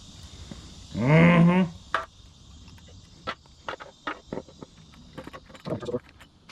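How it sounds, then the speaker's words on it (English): A crankshaft settles into the case of a 1968cc VW 74mm stroker engine, with scattered sharp metallic clinks and taps after a brief spoken remark near the start. "Go ahead and drop our crank in"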